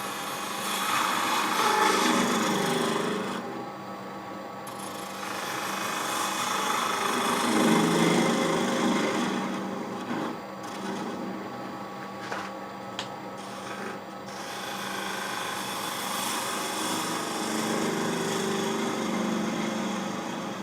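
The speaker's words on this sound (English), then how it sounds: "I'm going to use my 1/4 inch detail gouge" A pear is turned on a wood lathe with a 1/4 inch detail gouge, giving a continuous whirring hum with scraping and cutting noise that swells and eases as the tool engages the wood.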